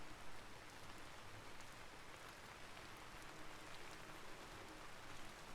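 Steady rain pattering across a modded pixel-art farming game world, a dense even hiss holding at the same moderate level throughout with no voices.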